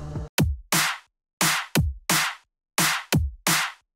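Drum loop in a music production beat with a crispy clap layered over kick and snare, crisp bright slaps alternating with deep thumps in a tight repeating rhythm, dry and upfront with gaps between hits.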